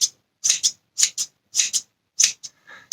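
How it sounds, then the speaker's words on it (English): Sewing scissors snipping in quick crisp pairs of closing blades, several distinct cuts with short pauses between, close and clear against silence. "I love the sound of the scissors"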